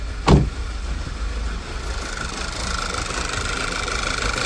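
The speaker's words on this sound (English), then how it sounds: "Car is misfiring very hard." A Volkswagen CCTA engine in a Passat or Tiguan runs with a random misfire and hunting RPM, giving a steady close engine drone with one brief louder thump near the start and no voices.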